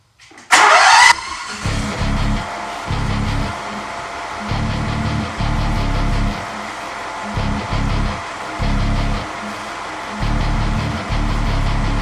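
A Ferris ISX2200 mower engine cranks and fires with a loud burst, then settles into a steady, close idle that runs on with a slightly uneven, pulsing low hum.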